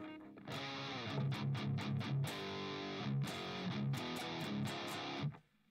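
Heavily distorted electric guitar through an amp with a Vintage 30 speaker, miked up close: thick, crunchy chords and palm-muted chugs, loud and full, ending with a quick cutoff.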